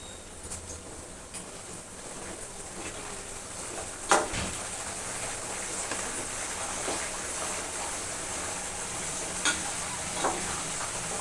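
Dried red chillies sizzling in hot oil while tempering for pulihora (tamarind or lemon rice), a soft continuous frying hiss with a few sharp pops and spoon clinks against the pan.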